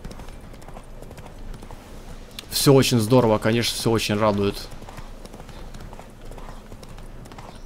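A horse gallops on and on in The Witcher 3: Blood and Wine, its hoofbeats a steady rhythmic pounding that runs beneath someone talking loudly over the middle of the stretch.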